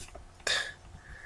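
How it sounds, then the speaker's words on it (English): A single short, sharp cough, close and distinct against quiet surroundings. "So she does a hand signal and coughs."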